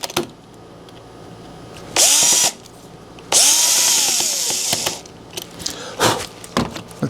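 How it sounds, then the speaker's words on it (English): A power drill runs in reverse with a left-handed bit, drilling out a broken screw in a door lock: two loud whirring bursts that spin up and stop, followed by scattered handling knocks. "this is a left-handed drill bit, so we're going to drill in reverse"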